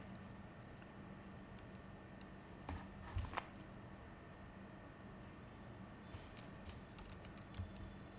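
Faint, sparse keystrokes on a computer keyboard while text is entered into an Excel spreadsheet, a few isolated clicks with a brief cluster near the middle over a steady low background hum.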